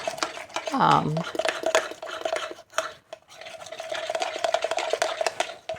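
A utensil stirs pumpkin popover batter in a bowl, giving rapid, close scraping and clinking strokes that continue with short pauses. A brief voice sound is heard near the start.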